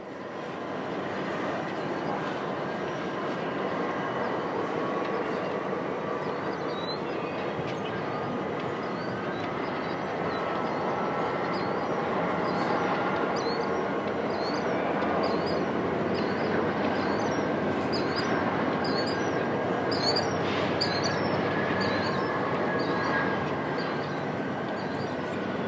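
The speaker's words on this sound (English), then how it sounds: "Golden Spike visitors have a commanding view of westbound cars being classified into trains." Union Pacific westbound freight cars being sorted into trains at a hump yard, heard as a steady broad rumble of rolling cars with repeated high squeals from retarders, continuous and fairly loud throughout.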